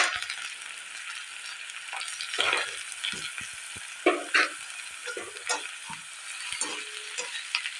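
Bay leaf and ginger-garlic paste fry in a pan while a utensil stirs them, a steady soft sizzle broken by scraping and clinking stirring strokes, with no talk.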